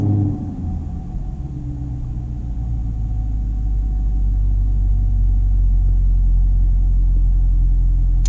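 A 2016 Chevrolet Camaro SS V8 fires up from a warm start with a brief loud burst, then settles into a deep, steady idle rumble that holds close and constant to the end.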